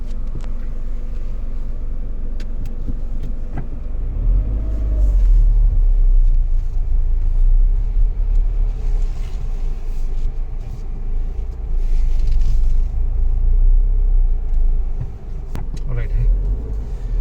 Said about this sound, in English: there is very little traction and the wheels of the cars are spinning